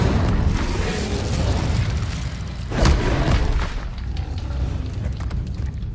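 The Incendio fire spell is cast in Hogwarts Legacy, a single whooshing, booming burst landing midway through a dense, steady wash of game sound.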